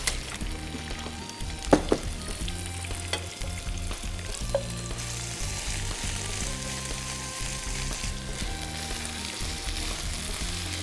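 Red, green and yellow capsicum with carrot fry steadily in a pan for sweet and sour mushroom nuggets, a continuous close sizzle with a few brief clinks and stirring scrapes early on, no voices.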